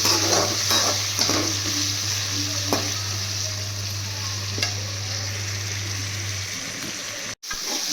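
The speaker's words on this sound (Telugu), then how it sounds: "టమాటాలు కూడా బాగా వేగనివ్వాలి." Tomatoes and green chillies fry in a pan, giving a steady close sizzle with occasional stirring scrapes over a low hum, then a brief break near the end.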